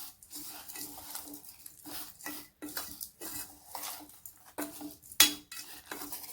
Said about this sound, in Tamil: இப்போ கரண்டியில் நல்லா ஒரு மிக்ஸ் கொடுத்துடலாம்